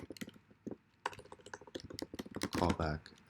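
Steady typing on a computer keyboard: a run of sharp, close key clicks in irregular bursts, with a short voice-like sound near the end rising over the clatter.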